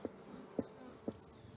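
Agitated honey bees buzz around an opened hive with frames of brood pulled out, with three sharp, distinct bumps standing out over the steady, faint hum.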